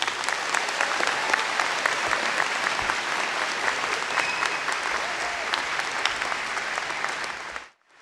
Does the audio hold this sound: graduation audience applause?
yes